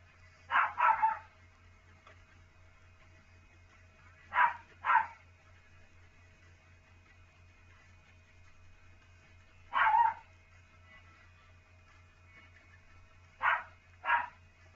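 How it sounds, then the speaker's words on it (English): A dog barks at the neighbors in short double bursts, spaced several seconds apart across the stretch, moderately close, over a low steady hum with no speech. "My dog's barking at the neighbors again."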